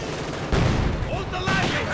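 A field gun fires in the real-time strategy game Company of Heroes 2, its booming shots landing at about half a second and again near the end over a steady din of battle.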